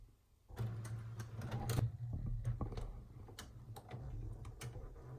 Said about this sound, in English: And everything is going to print out right here.